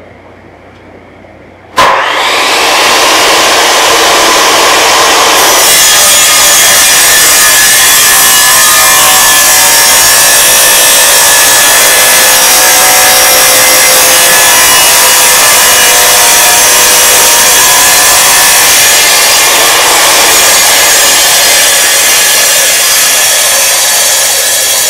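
A power saw cuts tile during a DIY tile installation, spinning up suddenly and then grinding loudly and steadily for over twenty seconds, close and dominating, with the pitch shifting slightly as the blade works through the material.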